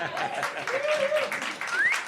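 Audience applause at a live songs-and-stories show breaks out in a small venue, brief clapping mixed with whistles and whoops rising over it.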